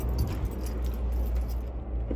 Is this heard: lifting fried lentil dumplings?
no